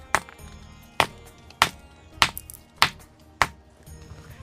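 A rock is struck on Jhunjhunwa hill in Aurangabad, producing six sharp, evenly spaced knocks with a slight ringing tone under low outdoor background noise.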